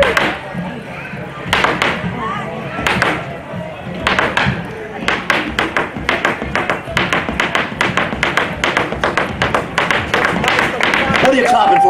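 A lone audience member claps at a live show at the Bay Area Renaissance Festival in Tampa, Florida. The claps are sharp and close, sparse at first and then a steady run of quick strikes, heard under a performer's talk.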